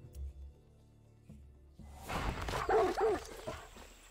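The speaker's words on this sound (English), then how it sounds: "He's killing dogs again." Dogs barking and yelping in the Far Cry 6 video game, a burst of loud, close barks and whimpers over game ambience with low rumbling beforehand.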